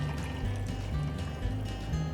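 Coconut water from a freshly cracked coconut pours out in a continuous close trickle, a soft steady liquid stream with no talk over it.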